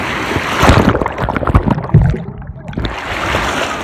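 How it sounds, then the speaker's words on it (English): Ocean surf at Myrtle Beach washes over swimmers lying in the shallows, a close, loud churning rush of water that swells, briefly thins out, then surges back in a steady wash with splashing and sloshing. "It's fun when the waves just like go over you"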